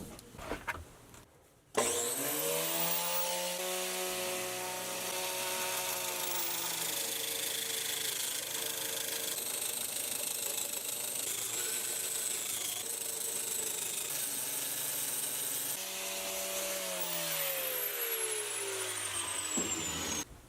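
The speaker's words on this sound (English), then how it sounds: "is an angle grinder with a chainsaw carving wheel mounted to this, and then this finger rides a template underneath it" An angle grinder fitted with a chainsaw carving wheel roughs out a wooden leg, its finger riding a template. After a brief start it whines loudly and steadily through the cut and tapers near the end.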